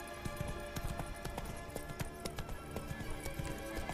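Horse hooves clip-clop steadily at a quick pace in The Witcher 3: Wild Hunt, during the Bloody Baron quest, with a faint whinny in the mix.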